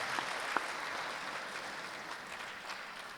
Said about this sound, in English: Please clap for these people.